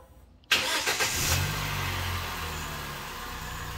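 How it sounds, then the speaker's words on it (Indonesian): A used car's engine cranks and catches abruptly, revving briefly before settling into a steady, even idle that runs on loud and close with no talk. "sekarang coba kita nyalakan aja ya untuk performa mesinnya"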